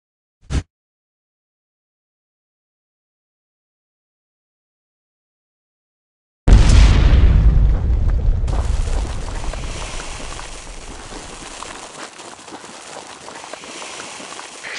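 Tank shells in the mobile game Tank Stars: a brief pop, a long silence, then a loud booming blast that decays into a sustained rumbling, crackling roar, with no talk.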